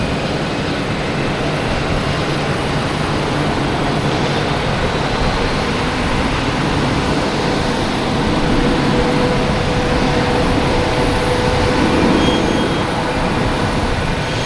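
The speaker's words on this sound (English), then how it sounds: "next takeoff is Air Canada heading to Montreal in E175" An Air Canada Embraer E175 jet takes off at Boston Logan Airport, a steady broad engine roar heard from a distance, continuous and fairly loud throughout.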